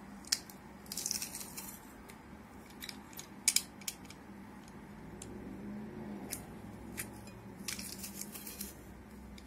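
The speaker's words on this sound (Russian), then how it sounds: "Выдавим пару зубчиков чеснока сюда." Garlic cloves are squeezed through a press while making Korean-style carrots with meat, giving faint, scattered crunching clicks and squishes over a quiet kitchen background.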